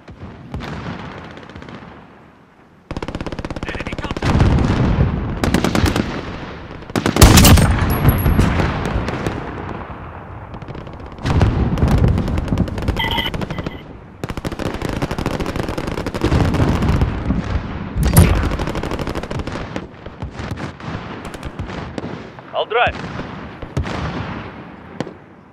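Gunfire in the video game Call of Duty Modern Warfare comes as loud, dense bursts of automatic fire and sharp single shots. Heavy booming blasts are broken by short pauses.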